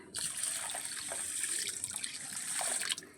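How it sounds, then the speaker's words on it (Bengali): Warm water streams from a tap onto rice that has been washed four or five times, a steady close splashing gush lasting a few seconds with no voices. "এবারে দিয়ে দেবো আমি জল"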